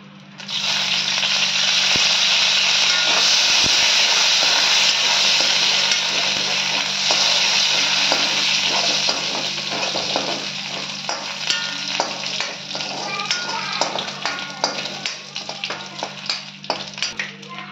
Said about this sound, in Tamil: எண்ணெய் ஊற்றிட்டு திருப்பி கொஞ்சம் கருவேப்பிலை போடுங்க.